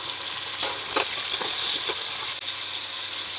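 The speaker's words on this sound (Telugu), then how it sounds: "టేస్ట్కి సరిపడా ఉప్పు యాడ్ చేసుకొని బాగా ఫ్రై చేసుకోవాలి." Chopped onions and tomatoes fry in a pan for a chicken curry, giving a close, steady sizzle with a few soft stirring scrapes and no voices.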